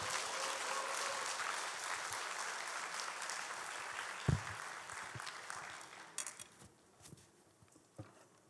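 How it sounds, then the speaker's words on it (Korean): A church congregation at a Wednesday prayer meeting claps to welcome a missionary to the stage, a full wave of applause that thins into scattered claps and a few knocks as it dies away. "박수로 모시도록 하겠습니다."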